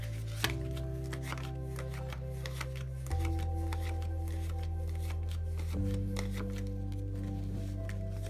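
A deck of playing cards is shuffled close up in a rapid stream of soft riffling and flicking, with a steady musical backing underneath and no talking.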